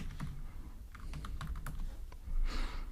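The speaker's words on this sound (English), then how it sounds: "Let's type description." Computer keyboard typing heard up close, a quick burst of soft irregular key clicks followed by a louder clack at the end, faint and alone without speech.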